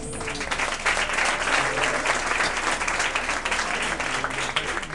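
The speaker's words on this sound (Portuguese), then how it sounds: "Palmas para Jesus" A church congregation at a miracle crusade applauds for Jesus, dense sustained clapping filling the room at steady loudness throughout, with faint voices mixed in beneath it.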